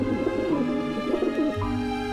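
Pigeons in the video game Grim Fandango Remastered coo in soft, rolling warbles, several overlapping calls repeating close by over a steady ambient hum.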